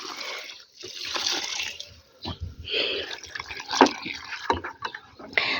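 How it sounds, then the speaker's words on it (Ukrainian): Aluminium sulfate solution poured from a container onto the soil in a circle around a hydrangea bush, an uneven splashing and trickling of liquid at close range with brief pauses, no talking. "І по периметру куща по колу проливаю цим коагулянтом, сульфатом алюмінію."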